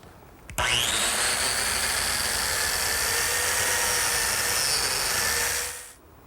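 A biscuit joiner cuts a slot into a wooden table leg for a pantry table. It makes one steady, loud, high-pitched whine that runs for about five seconds, then spins down.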